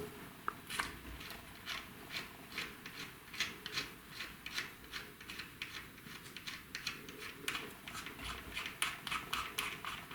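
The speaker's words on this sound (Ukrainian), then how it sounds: "Далі відкручуємо цю фіксуючу гайку." Fixing lock nut being unscrewed on a wheel valve: a faint, steady rasping and gritty scraping with quick rhythmic strokes, close up and quiet, with no talk.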